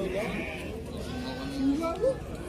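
Sheep bleat a few times at a livestock market in Jalal-Abad, short wavering calls under someone talking over the crowd.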